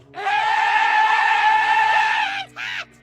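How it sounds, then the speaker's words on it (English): A video game gun lets out a loud, continuous shrieking yell, a harsh harmonic screech held for about two seconds, then a short second cry. "It just like screeches and shouts while you are firing."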